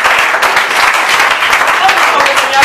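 A church congregation in Taquaril, Belo Horizonte, bursts into loud, continuous applause during a fervent service, hands clapping densely and evenly throughout with voices faintly mixed in.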